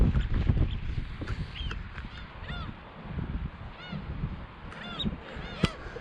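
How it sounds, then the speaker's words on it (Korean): A flock of seagulls calls overhead above the sea near a small island while fishing from shore, with scattered, fairly distant cries repeating over wind and rustling noise. "하늘에서 갈매기들이 떼거지로 몰려와서 먹인 줄 알고 달려들려고 해서"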